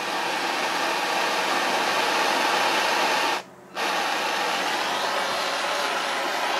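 A propane-style torch flame roars steadily while heating the clutch bearing housing of an AC Nitro 200, a broad continuous hiss that drops out briefly once before resuming, with no talking.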